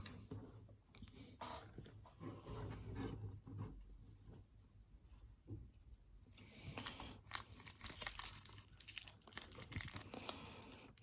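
Wrapped packs of 1995-96 Topps Gallery basketball cards are torn open, giving bursts of crinkling and ripping foil that grow busier and louder after a quiet stretch of faint handling noise.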